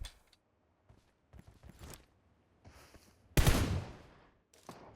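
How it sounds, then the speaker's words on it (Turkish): Scattered PUBG Mobile gunshots crack in short bursts, with one loud close blast partway through amid quieter pops and gaps of near silence. "Bak silah sesi oradan geliyor"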